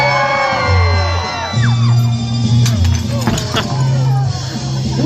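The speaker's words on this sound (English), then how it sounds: "Let me hear you scream" Crowd at a live stunt and thrill show whooping, shouting and yelling together in a loud, sustained burst of cheering with overlapping voices and babble throughout.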